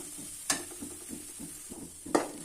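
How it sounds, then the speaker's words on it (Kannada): Tomato chutney ingredients fry gently in oil in a pan, with soft sizzling and a couple of sharp stirring scrapes against the pan. "ಈಗ ಎಣ್ಣೆಯಲ್ಲಿ ಸ್ವಲ್ಪ ಫ್ರೈ ಆಗಬೇಕು ಅಂತ ಈಗ ನೋಡ್ತಾ ಇದ್ದೀರಲ್ಲ ಈ ಥರ ಅದು ಫ್ರೈ ಆಗಿದೆ"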